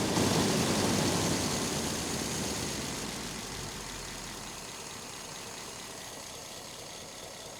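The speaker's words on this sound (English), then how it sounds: "You can hear the lifters and the valves going up and down." Engine of a 1939 Ford truck, a barn find, idling smoothly after the choke is eased off. A dense, steady mechanical rumble with a fine valve and lifter patter settles slightly quieter over the clip, close, with no talk.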